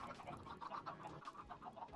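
Chickens clucking in Minecraft, a soft run of repeated short clucks and chirps at low volume with no talking.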